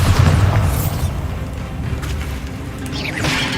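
A Bombarda spell blast in Hogwarts Legacy: a loud, deep boom opening the clip, then a rumbling tail amid game effects, with a bright whoosh near the end.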